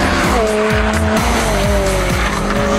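A Mugen Honda Civic Type R driven hard: loud, sustained engine howl with rising revs, repeated gear changes and tyre squeal, close and continuous throughout, with no talk.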